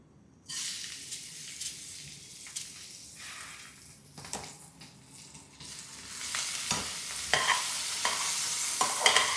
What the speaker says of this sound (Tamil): இதை வானலியில் கொஞ்சம் நெய் விட்டு ஒரு பிரட்டு வைங்க